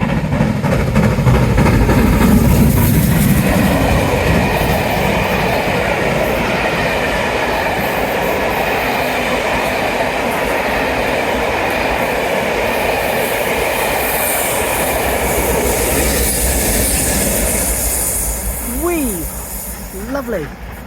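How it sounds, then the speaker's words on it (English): A train rumbles past on the rails at Teignmouth, a loud steady roar with rhythmic clatter and wheel squeal, fading slightly near the end. "Happy train!"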